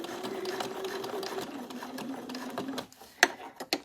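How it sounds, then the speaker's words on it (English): A sewing machine hums along at slow speed while stitching curved seams on a fabric bag, a close, even motor whir that stops near the end and leaves a few sharp clicks. "There's a definite time for fast sewing and there's a time for slow sewing, and doing these curves is definitely not a time for going fast"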